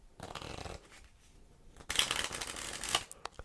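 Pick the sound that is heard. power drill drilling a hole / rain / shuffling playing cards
shuffling playing cards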